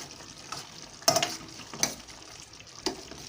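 Masala paste with ginger-garlic frying in oil for mutton curry, a quiet continuous sizzle under several distinct spoon scrapes and taps against the pan, close and unaccompanied by speech.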